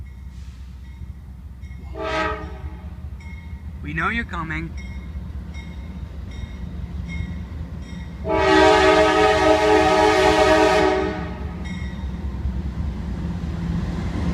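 A Norfolk Southern freight train rumbles steadily nearby heading eastbound while its horn blasts a few short times, then holds one long loud blast; a person speaks briefly.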